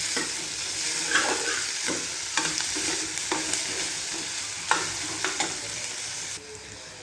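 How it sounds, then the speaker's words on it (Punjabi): Chopped onions sizzle and fry in a pan for Punjabi-style rajma, with a steady close hiss broken by repeated scraping stirs of a spoon. "ਪਿਆਜ਼ਾਂ ਨੂੰ ਆਪਾਂ ਚੰਗੀ ਤਰ੍ਹਾਂ ਭੁੰਨ ਲਾਂਗੇ ਐਨ ਬਰਾਊਨ ਹੋਣ ਤੱਕ ਆਪਾਂ ਇਹਨਾਂ ਨੂੰ ਭੁੰਨਾਂਗੇ ਪਹਿਲਾਂ"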